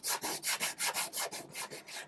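Small hand scraper drawn across old wood during a restoration, about ten quick rhythmic rasping strokes, close and clear with no talking.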